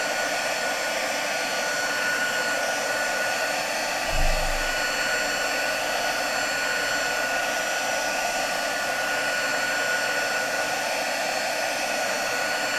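A hair dryer blows steadily and loudly the whole time, drying purple-toned paint on an ink art piece, with a brief low bump partway through and no talking.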